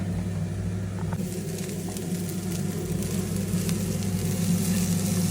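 Pepper and broccoli sizzle steadily in a hot pan as they are stirred, a continuous frying hiss over a low steady hum, with faint scraping touches in the mix.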